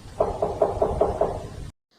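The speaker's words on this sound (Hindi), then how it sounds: "थोड़ी देर के बाद रेड राइडिंग हुड ने आकर दरवाज़ा खटखटाया" Knocking on a wooden door in a storytelling scene: six evenly spaced knocks over steady background hiss, close and moderately loud, then sudden silence.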